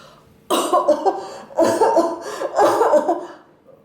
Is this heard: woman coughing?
yes